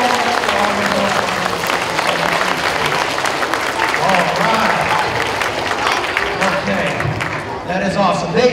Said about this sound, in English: Big round of applause for Mrs. Krieger and Ms. Kale